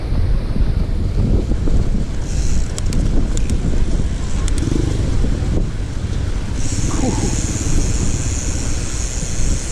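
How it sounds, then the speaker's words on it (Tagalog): Strong mountain wind buffets the microphone in a loud, continuous roar during a bike ride, with gusts surging and easing throughout. "Grabe lakas ng hangin."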